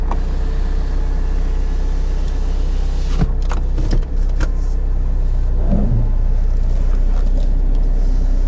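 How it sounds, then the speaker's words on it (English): A Saab 9-3 car drives slowly around a car park and shifts gear, a steady low engine hum with a few brief knocks and a slight rise in pitch near the middle, heard from inside the car. "we'll just drive it around this car park, make sure it changes gear"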